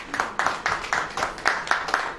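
A church congregation clapping hands together in a steady rhythm, about nine even claps over two seconds, crisp and close with no talk.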